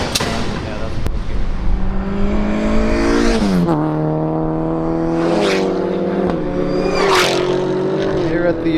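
Race car engine at a time attack event revs hard and climbs through the gears, with sharp pitch drops at each upshift and loud, close, continuous roar throughout.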